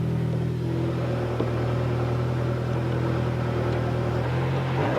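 A turbocharged rally car engine on the 1993 Paris-Dakar Rally runs as the car pulls away, a steady loud droning hum with a low pitch that holds and then shifts slightly near the end as it drives off.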